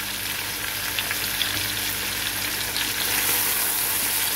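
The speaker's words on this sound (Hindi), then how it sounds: "साथ के साथ हम इसको भी भून लेंगे ताकि इसका कच्चापन भी खत्म हो जाए।" Ginger garlic paste fries over high flame for yakhni pulao, a steady close hiss of sizzling oil that runs unbroken throughout without any talk.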